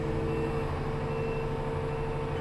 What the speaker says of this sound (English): Touches on grade. Hear it beep.